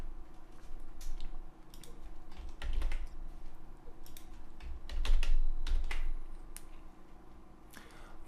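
Steady computer keyboard typing while entering values into table columns in Dreamweaver, a run of quick close clicks with a few heavier key strikes, no talking.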